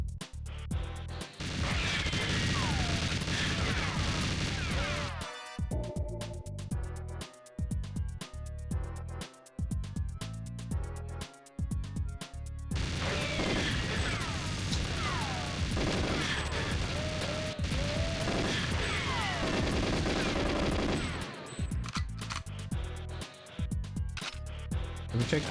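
Turret gunfire in the 1997 GoldenEye 007 video game, with dense bursts of rapid shots and crashes that run almost continuously and break off briefly for short pauses before starting again.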